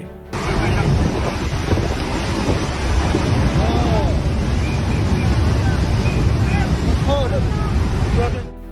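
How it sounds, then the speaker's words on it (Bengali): Violent flood water in Pakistan sweeps away rocks and earth in a loud, unbroken roaring rush, with faint voices now and then over the din. "পাকিস্তানে এক ভয়াবহ বন্যা পাথর মাটি আর সামনে যা কিছু ছিল সব কিছু ধুয়ে মুছে সাফ করে নিয়ে যাচ্ছে"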